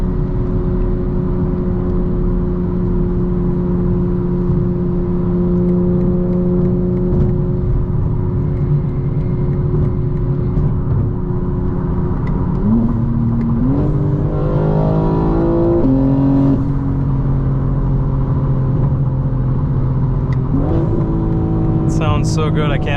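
A 2025 BMW M4 Competition xDrive engine drones steadily from inside the cabin, then climbs through rising revs with sharp gear-change steps and a final surge near the end, while a person talks over it.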